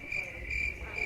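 A cricket-chirping sound effect plays from a soundboard button during a live poker stream, giving a short, steady, high-pitched chirping pulse that is moderately loud and heard alone.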